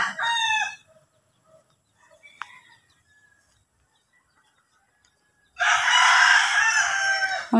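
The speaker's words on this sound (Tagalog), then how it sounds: "Pakain ng mga manok." Chickens cluck and a rooster crows loudly up close at feeding time on a farm, a short burst at the start, then near silence with faint sounds, then a long loud stretch of crowing and clucking.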